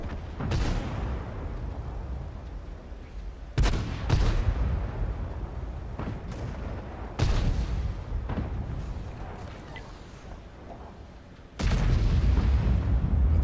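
Booming SPG artillery shots in the tank game World of Tanks, four heavy blasts spaced a few seconds apart, each with a long rumbling decay, loud and close with no talk.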